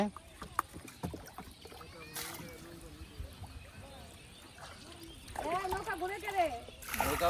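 A small boat pushes through a lotus-filled wetland, with soft water swishes and paddle splashes under intermittent nearby talking.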